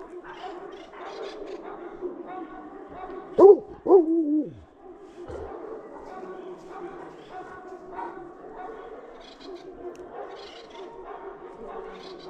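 A dog near a fence line yips and howls in a short wavering burst, mid-distance, amid a man's ongoing speech.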